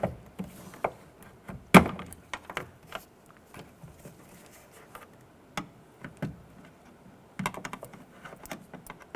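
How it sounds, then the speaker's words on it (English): A trim tool releases plastic clips holding the wiring harness inside the door of a 2011-2018 Ram 1500, giving scattered sharp plastic clicks and pops at irregular intervals, close and fairly quiet. "Using our trim tool, we're going to release the little plastic buttons that are holding the rest of our harness in place"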